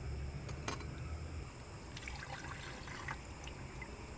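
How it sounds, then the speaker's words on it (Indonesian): Aqua regia solution dissolved from gold-bearing IC chips pours into a container, a quiet steady liquid trickle with a few faint clinks, with no voices. "Kita langsung tuangkan ke sini."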